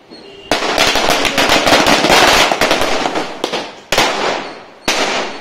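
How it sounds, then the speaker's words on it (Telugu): Diwali firecrackers go off close by on a street in Tirupati: a loud, rapid crackling string of bangs, followed by a few separate sharp pops. "ఇక్కడ మా చెల్లి అయితే టపాసులు పెడుతుంది."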